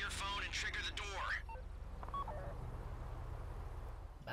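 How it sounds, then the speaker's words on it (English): Phone keypad tones dial in GTA V to trigger a bank vault door during the Fleeca heist, short beeps starting under a voice and then trailing on alone, fairly faint. "Take out your phone and trigger the door."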